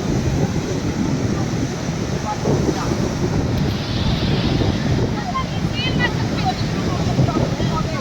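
Sea waves roll in under steady wind buffeting the microphone at Puri beach, a constant roaring wash with faint voices of people nearby.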